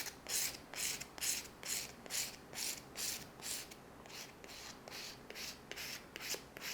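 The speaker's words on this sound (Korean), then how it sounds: "이 결 방향에 따라서 가볍게 사포를 해주도록 하겠습니다" Quiet rhythmic rasping of sandpaper along the grain of a wooden spoon, about a dozen even back-and-forth strokes, close up and soft.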